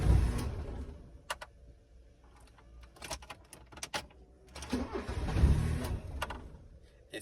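A 1990s manual first car trying to start on a driveway and stalling, with engine rumble surging twice, dropping away in between, and sharp mechanical clunks along the way.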